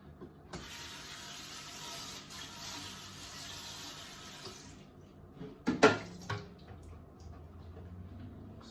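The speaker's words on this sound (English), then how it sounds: "I'm gonna put this pan right here, so I'm gonna rinse that off." A pan is rinsed under a running kitchen tap: water pours steadily for about four seconds and then stops, followed by a few close metallic clunks as the pan is set down, with no talking.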